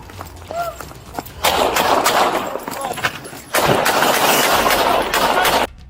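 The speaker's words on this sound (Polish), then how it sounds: "W tym momencie nadbiega drugi funkcjonariusz, który oddaje 10 strzałów przez szybę pojazdu." A police officer fires ten gunshots through a car window in a rapid, loud burst of sharp cracks, with a quieter stretch between the volleys.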